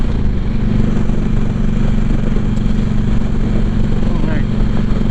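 A Harley-Davidson Road King motorcycle cruising in sixth gear, its steady low engine drone and wind rush filling the ride continuously and loudly.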